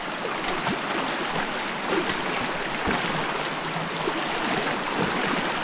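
A river flows steadily along a jungle trail, a continuous broadband rush of water with small splashes, close and fairly loud with no talk.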